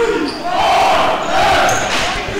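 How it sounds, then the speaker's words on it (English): A fired-up varsity high school basketball crowd roars and shouts in a gym, with a ball bouncing and sneakers squeaking sharply over the steady, close crowd noise. "DRS crowd clearly fired up here."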